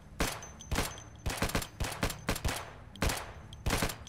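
Bursts of automatic gunfire from a weapon with drum magazines in Project Zomboid, several rapid volleys separated by short pauses, loud and close with no talking.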